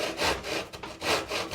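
A hand saw cuts through wood for a planter box, guided against a straight piece, in close, loud back-and-forth rasping strokes, about three in quick rhythm, with no talking.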